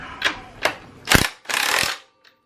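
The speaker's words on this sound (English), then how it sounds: "Let's gun it on a little bit." An impact gun tightens the axle nut on a Sur Ron Light Bee electric bike. Two short taps come first, then a loud burst and a longer rattling hammer, close up, with no talk.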